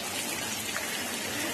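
Heavy monsoon rain falls in Mumbai with a dense, steady hiss of drops that stays loud and unbroken throughout, with no talking.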